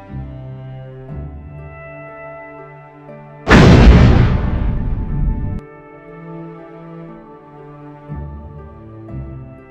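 Starship exploding in the Star Trek Bridge Commander game, a single sudden loud boom with a rumbling, decaying blast lasting about two seconds, standing out over a low musical background hum.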